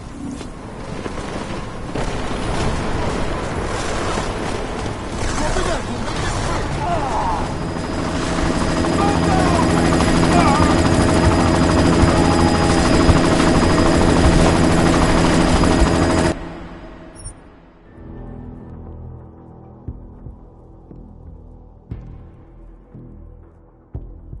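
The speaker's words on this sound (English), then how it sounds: "You've got to stop that chopper." Loud, steady helicopter rotor drone in a PS4 video game, building over about sixteen seconds amid game action, then cutting out sharply and leaving quieter background sounds.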